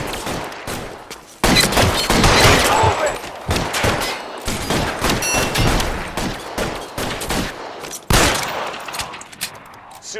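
Heavy gunfire erupts in a shootout with the police in the video game L.A. Noire, with dense bursts of rapid shots and machine-gun fire that roar loud and close, then break into separate sharp cracks with brief pauses before a final loud volley.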